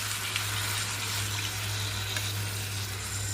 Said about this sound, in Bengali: এইবারেতে উষ্ণ গরম জল দিয়ে দিচ্ছি।